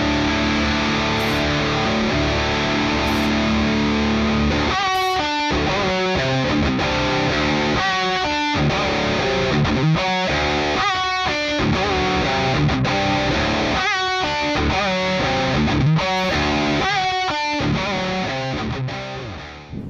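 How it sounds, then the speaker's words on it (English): Heavy, distorted metal or hard rock electric guitar riffs through a Revalver 5 virtual amp, a dense, loud, sustained wall of crunch broken by fast chugging palm-muted stabs, played continuously without talking. "I can easily change a few amp models and effects pedals and it'll sound something like this"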